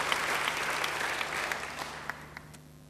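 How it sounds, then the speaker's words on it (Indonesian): Congregation applause during a church service, a steady wash of clapping that gradually fades, with a few distinct claps near the end. "Beri tepuk tangan yang baik bagi dia."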